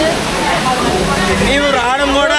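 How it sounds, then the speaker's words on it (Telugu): Dharamattam waterfall in Andhra Pradesh gushes forcefully down from a hill, a loud continuous roar of water close by, with people talking over it throughout. "ఇదే వాటర్ ఫాల్స్ ఇదే లైన్లో చూడండి ఎంత ఫోర్స్లో వస్తుందో"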